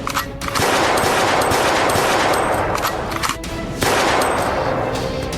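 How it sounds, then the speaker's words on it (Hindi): Gunfire from attackers shooting at a BJP candidate's office in Ambernath, Thane, loud and dense, a sustained burst of rapid shots with short breaks and sharp cracks. "अज्ञात हमलावरों ने धड़ाधड़ फायरिंग की।"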